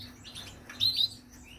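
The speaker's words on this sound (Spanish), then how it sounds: "Y hay tres o cuatro pájaros aquí también que me gustan mucho" A few small birds chirp nearby, one clear high tweet standing out briefly over a faint steady hum, with no talking.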